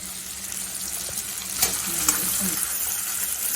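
Ingredients sautéing in oil for vatha kuzhambu, a steady close frying sizzle with stirring scrapes and a few louder pops in the middle, no talk.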